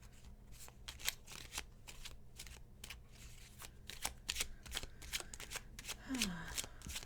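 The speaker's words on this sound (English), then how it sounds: "I guess I didn't shuffle." Tarot cards being shuffled by hand, a steady series of crisp riffling bursts close up, with a faint voice briefly in the background.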